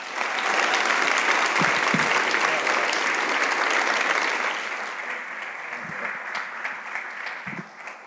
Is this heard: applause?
yes